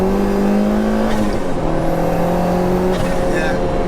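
Peugeot 205 GTI with a 2.1-litre stroker turbo engine making 315 bhp, accelerating hard on boost: loud, droning in-car engine note rising steadily in pitch, with a brief shift near the middle and occasional voices over the roar.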